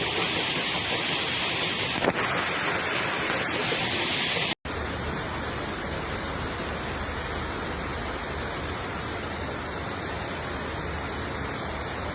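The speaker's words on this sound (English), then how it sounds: "lightning striking as the violent weather unleashed chaos across towns and cities." Steady heavy rain hisses without a break, with a brief sharp crack partway through, like thunder within a storm; Storm Gabrielle bringing flash floods to Spain.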